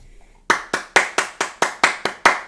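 Hands clapping close to a microphone, nine sharp, evenly spaced claps in a steady rhythm after a brief quiet start.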